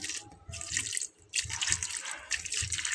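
Water gushes in short bursts into a cooking pot for boiling potato and vegetables in a home kitchen, a close splashing pour that stops briefly and resumes.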